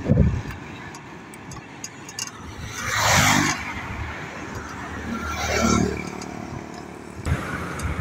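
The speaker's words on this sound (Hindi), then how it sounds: "ट्रैफिक देखें कैसे तेजी से जा रही है गाड़ियाँ" Road traffic with vehicles rushing past quickly, two distinct whooshing passes rising and fading a few seconds apart over a low steady rumble, moderately close.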